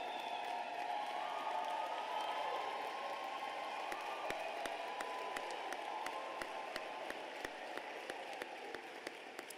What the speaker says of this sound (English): to stand up and to give them a special round of applause for the support that they have provided for you